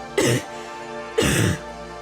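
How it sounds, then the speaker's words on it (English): Two separate throaty coughs from a video game character in Punishing: Gray Raven, each a rough burst about a second apart, close and clear with quiet background between. "This cough came from my heart."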